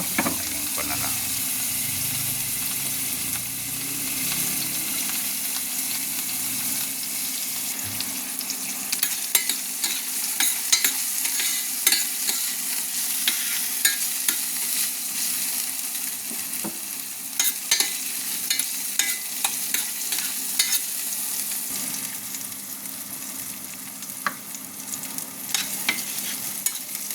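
Garlic sautés in a pan for native chicken tinola soup, sizzling steadily and loudly throughout, with scattered scrapes and clicks of a utensil stirring it.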